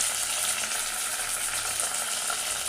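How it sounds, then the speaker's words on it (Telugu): Dal lentils frying in a pan, a steady, dense sizzle with a soft crackle running evenly throughout, close and fairly loud with no talking. "పప్పు కొంచెం వేయించుకోవాలి."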